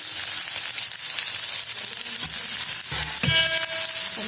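Medium-sized onions, coarsely chopped, fry in a pan for a traditional Maharashtrian vegetable dish, giving a steady, close sizzle throughout with a few stirring scrapes and light clinks near the end.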